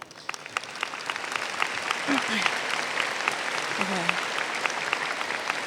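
Crowd applause at a high school graduation ceremony, a sustained, fairly distant wash of clapping that swells and holds, with a voice speaking briefly over it.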